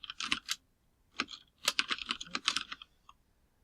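Someone types on a computer keyboard, with close, crisp key clicks in short irregular bursts separated by brief pauses in an otherwise quiet room.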